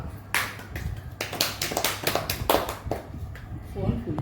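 A family claps for a game round's winner: a quick burst of scattered, sharp handclaps from several people at close range, loosely rhythmic and continuing for a few seconds with some voices mixed in.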